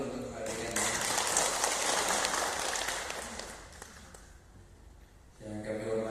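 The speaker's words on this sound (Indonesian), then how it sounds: "tepuk tangan dulu untuk Pak Dekan." Audience applause for a university dean at an education visit event, a broad hiss of clapping that builds and holds for several seconds, then fades, with a voice and background murmur returning at the end.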